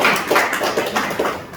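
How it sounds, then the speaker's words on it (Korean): A church congregation applauds together during a worship service, a steady, dense wash of clapping from many hands with gentle swells, fairly close and continuous throughout. "오늘도 우리 찬양 받으신 하나님께 박수를 영광 올리겠습니다"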